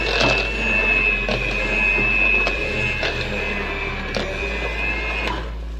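An electric mixer whirs steadily through pandan cake batter, a constant close mechanical hum with a faint whine and small clattering ticks against the bowl.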